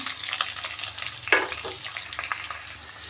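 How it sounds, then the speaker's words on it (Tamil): Finely chopped onions and green chillies frying in oil for a tamarind curry, a close, steady sizzle with a few stirring scrapes, one sharper clatter partway through. "ஒரு ரெண்டு பெரிய வெங்காயம் பொடிசாக கட் பண்ணி வச்சுருக்கேங்க அதையும் சேர்த்துக்கிறேன்"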